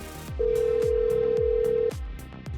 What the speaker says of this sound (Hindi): अरे ये तो सुबह सुबह चंचला का फोन आ रहा है।